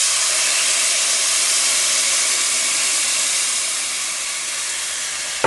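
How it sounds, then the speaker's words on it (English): Coconut milk pours into a hot pot of toasted onions and curry for a coconut curried grouper, raising a loud, steady steaming hiss and sizzle that holds for several seconds and eases slightly toward the end. "I'm now going to put in a cup and a half of coconut milk."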